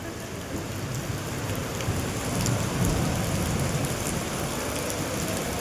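Heavy monsoon rain pours steadily on a flooded town square, a dense continuous wash that swells slightly midway, with no voices.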